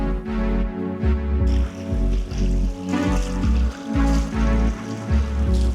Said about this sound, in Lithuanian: klausytis, kaip kažkur ten toli šneka upė